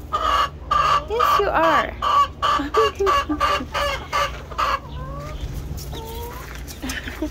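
A pet rooster clucks in a rapid series of loud, near calls, then lets out a few looser squawks, with a person speaking briefly in between.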